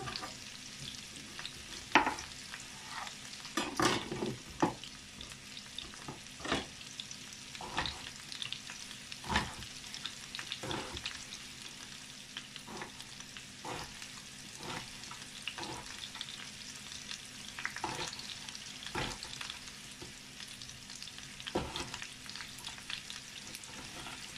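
Filet mignon grilling in a hot pan sizzles softly and steadily, broken by repeated scraping and stirring clicks at irregular intervals, with no voices.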